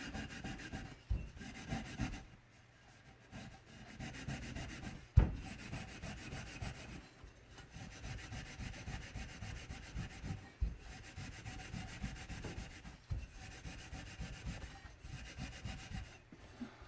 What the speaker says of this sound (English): I am also scrubbing the outer ring as well at the same time